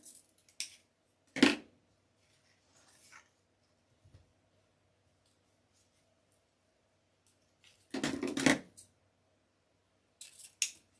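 Scissors cut ribbon for a gingerbread Christmas wreath in a few short bursts of close snipping, separated by long quiet gaps, with faint handling clicks between them.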